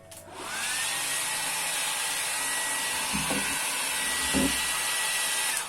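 A steady, loud whooshing airflow from a blower drying silkscreen emulsion runs throughout, close by, with a couple of brief knocks partway through.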